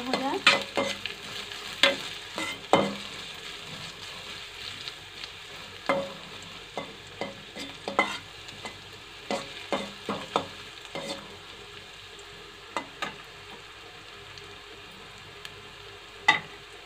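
Sliced onions with chillies fry in oil toward a light golden colour, a soft continuous sizzle with frequent sharp clicks and scrapes of a spoon stirring against the pan.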